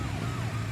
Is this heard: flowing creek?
no